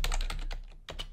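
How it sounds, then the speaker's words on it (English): Keys on a computer keyboard tap in a quick, even run of close, clear clicks, pausing briefly before a few more strokes. "we can start typing whatever we wish"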